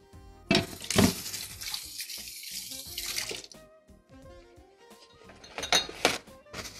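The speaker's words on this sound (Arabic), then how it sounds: "اغسل ايدي بس." Tap water runs into a sink while hands are washed beneath it, a splashing stream with a few louder gushes and faint clinks, close and without talk.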